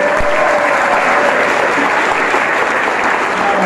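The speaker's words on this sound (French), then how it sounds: "On va acclamer cet homme de Dieu là." A crowd at a Bible verse recitation contest applauds, loud dense clapping that stays steady and unbroken throughout.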